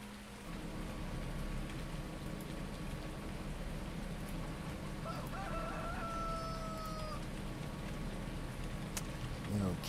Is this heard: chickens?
yes